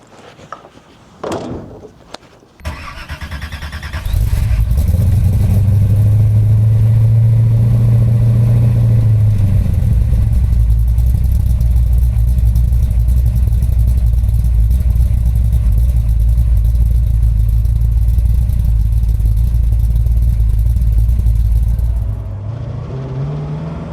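A 1970 Ford Mustang Boss 302 restomod V8 cranks and fires up after a few clunks, then settles into a loud, steady rumble that holds close for nearly twenty seconds before the engine cuts off.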